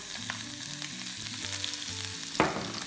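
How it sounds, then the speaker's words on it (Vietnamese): Chopped garlic and shallots fry in hot oil with a steady close sizzle, a faint hum beneath and a brief clatter near the end. "Dầu nóng rồi mình cho tí tỏi, cho tí hành vô."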